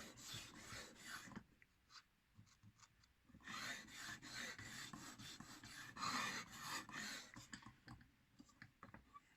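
Hair-cutting shears being sharpened on a fast sharpening stone, the blade forming a bevel. A steady, close-up gritty rasping comes in repeated strokes with brief pauses between passes, and no voice is heard.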